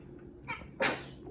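A single short, sharp sneeze bursts out close by after a soft lead-in breath, in an otherwise quiet room.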